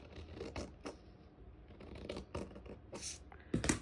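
Scissors cut through sewing pattern paper in short snips and rustles, quiet and close, with a louder crisp crunch and paper rattle near the end.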